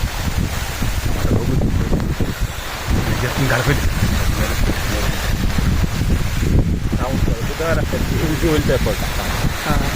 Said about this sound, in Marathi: वारा